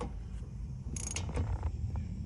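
A ratchet tightens 18 millimeter bolts on the front shocks of a 2008 Dodge Durango 4WD, giving a few short metallic clicks over low, rumbling garage background.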